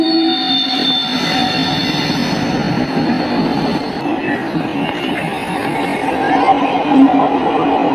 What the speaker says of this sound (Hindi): यहाँ से पल पल में ट्रेनें निकलती रहती हैं।